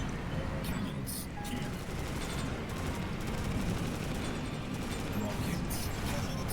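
Cannon weapons fire rapidly in the BallisticNG futuristic racing game at Vega Square, a dense, continuous barrage of booming, crackling blasts over a constant roar of racing craft, with no pause.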